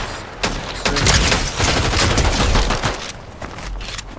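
Rapid assault rifle fire from the Fortnite video game crackles in a dense, loud burst lasting a couple of seconds, close and dominant, then tapers off.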